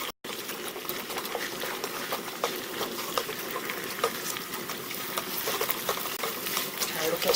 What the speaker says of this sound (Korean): 자, 이렇게 해서 풀어서 볶는 것 같지만 뭔가 튀기듯이 이런 식으로 해줍니다.